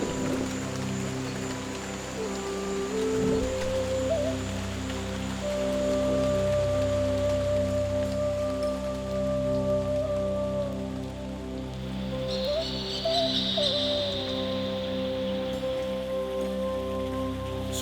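Steady rain falling in a Mexican jungle canyon, continuous pattering on surfaces throughout, with a faint tonal hum and a brief higher chirp partway through.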